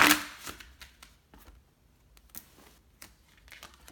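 Tarot love cards being shuffled and drawn close up, a sharp riffle at the start followed by a series of soft, irregular card slaps and flicks in a quiet room.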